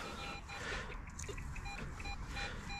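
Faint, repeated electronic beeps from a metal detector at a steady pitch over a noisy background on a grassy beach, several short tones in a row.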